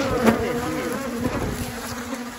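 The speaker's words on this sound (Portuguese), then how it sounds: "As abelhas já deu reação, né?" Agitated honeybees buzzing loudly and steadily around an opened hive box, a dense close swarm drone with no talking.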